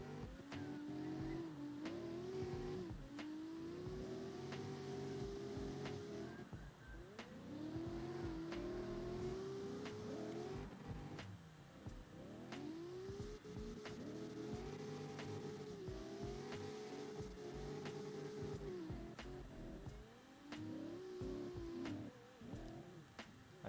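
Car engines in the racing game CarX Drift Racing rev hard and hold long whining drifts at night, tires squealing, with sustained engine notes rising and falling continuously and loudly throughout.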